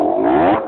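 A motorcycle engine catches and revs in one short, close, rising burst, loud and heard alone before it drops away.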